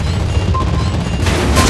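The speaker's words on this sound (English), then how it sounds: "Anti-aircraft gun on full alert." Anti-aircraft guns fire in the naval video game World of Warships Blitz, a loud continuous rumbling barrage of dense overlapping bursts that swells slightly toward the end.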